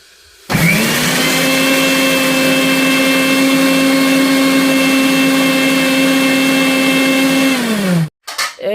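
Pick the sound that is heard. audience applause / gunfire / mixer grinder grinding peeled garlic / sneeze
mixer grinder grinding peeled garlic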